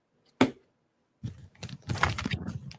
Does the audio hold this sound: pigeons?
no